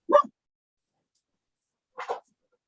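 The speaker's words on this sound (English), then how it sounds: "Oh, the little wild dogs are barking at. I hear all the neighbor dogs." Neighbourhood dogs bark twice in the distance, two short separate calls in an otherwise quiet room.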